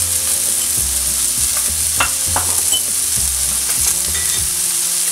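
Spices with turmeric, salt and green chillies sizzle steadily in a hot pan while being stirred, with scraping strokes of the spoon and frying hiss throughout, no talking.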